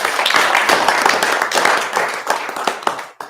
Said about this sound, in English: let's give our incredible support staff a round of applause